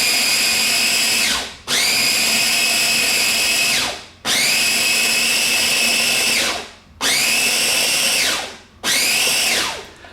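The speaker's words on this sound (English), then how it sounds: "And then all I do is press chop. And the food processor does all the work." A food processor chops salsa ingredients in loud, whirring bursts, four or five pulses of a few seconds each, every one spinning up and then winding down in a short gap before the next. It runs alone, close by, with no talk.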